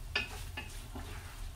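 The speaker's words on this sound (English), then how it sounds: "so you can hear it sizzling still" Sapasui cooking without meat in a pan gives off a steady, soft sizzle and frying hiss, with a couple of brief stirring scrapes early on and a low background hum throughout.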